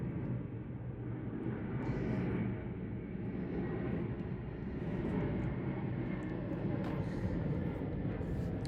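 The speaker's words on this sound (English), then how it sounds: "I have the airplanes going straight to Heathrow Airport, and they land right here." Airplanes fly low overhead on approach to Heathrow Airport, a steady distant engine roar and rumble that swells and fades slightly throughout.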